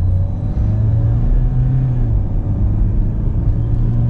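A Hyundai Elantra's engine gives a steady, loud low rumble as the car accelerates smoothly, heard alone for a few seconds.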